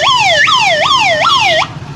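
A voice imitates a vehicle siren, a loud and close rising-and-falling wail repeated about four times, which breaks off near the end.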